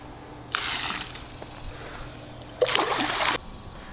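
Phosphate remover poured into swimming pool water, giving two separate bursts of splashing and sloshing, each lasting under a second, close and fairly loud.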